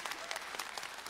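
A short burst of audience applause in a lecture hall at a leadership event, brief and fairly even, with no speech over it.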